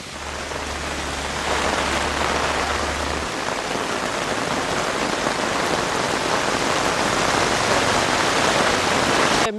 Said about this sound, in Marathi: मुंबईच्या सायन परिसरामध्ये पावसानं जोरदार हजेरी लावली आहे।